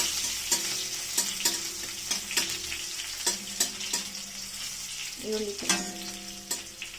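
Onions fry in a pan for Bangalore-style sambar, a steady close sizzle broken by repeated sharp spatula taps and scrapes against the metal, some leaving a brief ringing tone.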